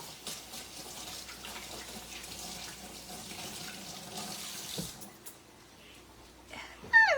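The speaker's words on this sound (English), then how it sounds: "Let me just rinse my fingers." Kitchen tap water runs steadily into a sink while fingers are rinsed, a close rushing splash that stops near the end, followed by a brief clatter.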